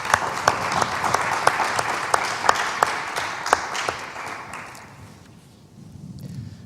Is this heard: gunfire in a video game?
no